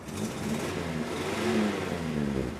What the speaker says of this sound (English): even though it's got the side valve engine, it's still got that Morris Minor blowback